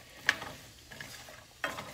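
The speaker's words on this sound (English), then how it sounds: "now we've got the sizzle going" Soft hiss of vegetables for a vegan stir fry cooking in a frying pan, with a couple of scraping stirs and clinks over the steady sizzle.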